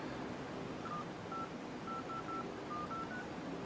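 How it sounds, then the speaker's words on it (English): Phone dial pad on an AT&T handset beeping out a number, a quick run of about nine short tones, some in close pairs, sounding faintly over light background hiss. "Just dial a fake number."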